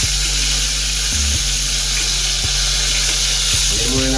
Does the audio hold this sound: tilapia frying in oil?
yes